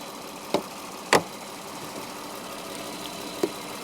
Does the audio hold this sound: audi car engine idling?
yes